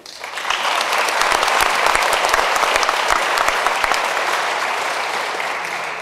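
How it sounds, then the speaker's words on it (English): A graduation audience for a college police academy gives a loud, sustained round of applause, dense clapping that swells quickly and holds steady for several seconds. "let me hear that warm round of applause again"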